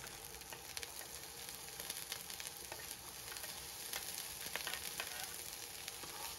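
Garlic and onion sauté in a pan for stir-fried bean sprouts, a faint, even crackling sizzle that runs continuously with small pops, no voices.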